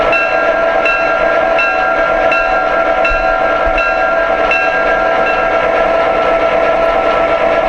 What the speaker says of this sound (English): Here's the bell